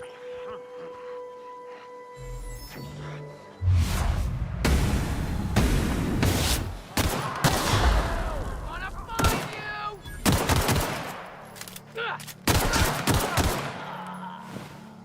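Gunfire in slowed tactical time in The Outer Worlds, several sharp loud shots and bursts spread across the scene with booming impacts, mixed with talk and game ambience.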